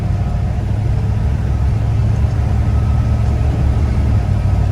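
An old truck engine idles in a steady, healthy rumble, close and loud with a deep low-end throb that never changes pace, and no talking over it.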